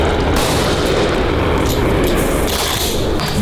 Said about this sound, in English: you shoot and follow through with the shot